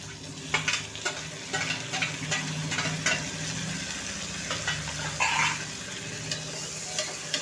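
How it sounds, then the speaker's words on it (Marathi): Finely chopped tomato frying with ginger and garlic for a chana dal and ridge gourd dish, a soft steady sizzle with frequent spatula scrapes and stirs, close by. "आता टोमॅटो छान फ्राय करूया"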